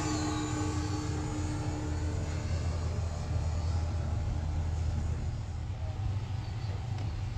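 A quarter-scale Beechcraft King Air C90A model plane makes a slow, full-flap flyby on a cloudy day, a steady droning engine rumble that holds at an even level throughout.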